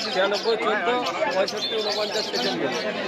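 Pigeons coo and flutter at the crowded Shantipur haat pigeon market, with soft cooing and chirps mixed under nearby talk and market chatter.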